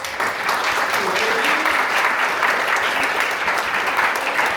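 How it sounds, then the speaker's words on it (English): Steady applause from a seminar audience, a dense wash of many hands clapping at even volume from start to finish, with no voices standing out. "can we have a round of applause?"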